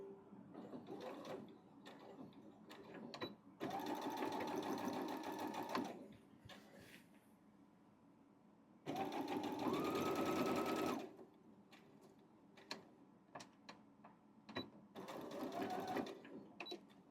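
Sewing machine stitching a baby quilt in quick, rapid bursts, a few seconds each, separated by quiet pauses filled with small clicks and handling noises.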